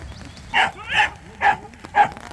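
Young sheepdog in herding training outdoors barks four times at a steady, half-second rhythm, the sharp barks fairly close and standing clear above quiet background.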